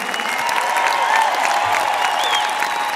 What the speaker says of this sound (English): But another round of applause for this bunch.